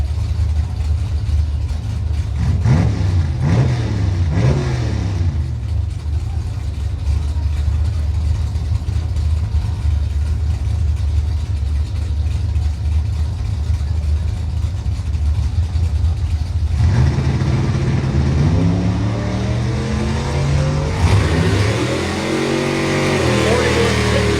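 A 1985 Cutlass 442 drag race car on a strip roars loudly, revving and accelerating in rising sweeps, then idles rough before revving again, with a track announcer talking over it.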